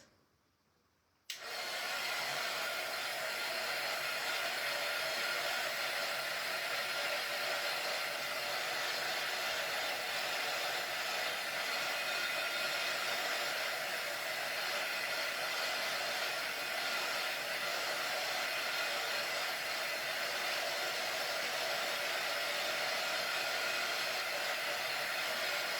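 Hair dryer blowing on a freshly finished wooden piece, switching on abruptly after a moment of quiet and then whirring at a constant, fairly faint hiss for over twenty seconds without interruption.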